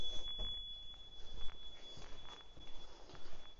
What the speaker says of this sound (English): The alarm is quite annoying though.